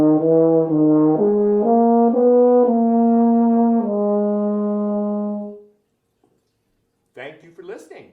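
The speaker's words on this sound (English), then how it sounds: "It's called the Euphonium that sometimes gets to play in the orchestra." A euphonium, a small tuba-like brass instrument, plays a sustained melodic phrase of several held notes that rise and step, alone and fairly loud, before fading out; brief sounds follow after a pause.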